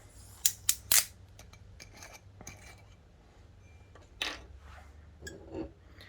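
A screw-top bottle of Italian semi-sweet dark red blend wine is twisted open. Two or three sharp cracking clicks come at the start, followed by light scattered rattles and rustles, close and fairly quiet.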